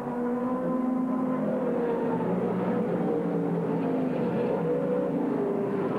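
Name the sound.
sports sedan racing cars, Chevy Monza, at Mount Panorama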